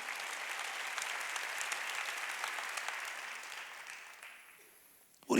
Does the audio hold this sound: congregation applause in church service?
yes